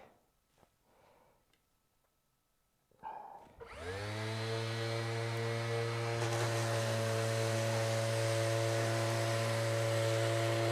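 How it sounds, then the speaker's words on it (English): A Makita random orbit sander starts up after a quiet moment and runs steadily, a loud continuous motor whine with a strong even hum that holds at full speed while sanding a workpiece. "just let the sander do the work"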